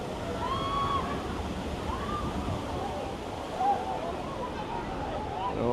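Rushing water from a waterfall at a Disney park, a constant broadband wash close by, with faint voices and squeals in the background.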